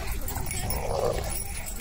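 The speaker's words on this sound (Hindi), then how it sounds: "भाई यहाँ पे सबसे ज्यादा खतरनाक कुत्ता यही है" A pitbull whimpers softly amid steady background noise, the faint whine rising briefly in the middle while voices are present nearby.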